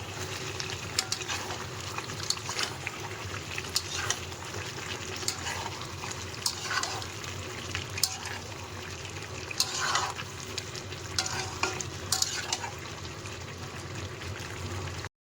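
Chicken curry being slowly stir-fried in a pan during Bengali kosha cooking, with a low, steady sizzle and bubbling, plus intermittent clicks and scrapes of stirring at moderate volume, no talking.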